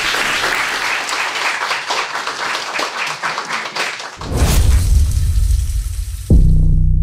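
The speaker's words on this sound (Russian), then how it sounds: "Аплодисменты." Studio audience bursts into loud, dense applause that swells midway and continues strongly to the end, with low booming resonance underneath.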